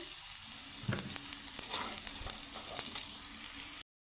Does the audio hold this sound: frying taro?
yes